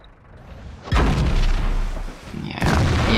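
Heavy shell impacts slam into a tank in World of Tanks, with a loud booming blast near the start and another burst of rumbling impact toward the end, over a continuous low mechanical rumble.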